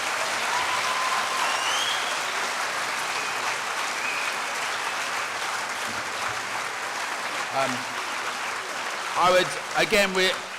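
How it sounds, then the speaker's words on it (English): Warm audience applause for a panel at an anniversary question-and-answer event, a sustained, even roar of many hands clapping, slowly tapering, with a few voices breaking through at the end. "Can you give a very warm round of applause to our panel?"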